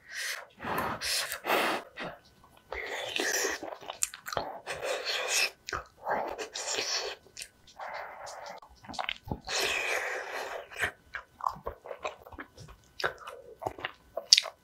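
Korean mukbang meal of hand-cut noodles and rice mixed with scorched-rice nurungji into a porridge, with close, intermittent chewing, biting and soft mouth noises in irregular bursts, plus gasps and breaths and no talk.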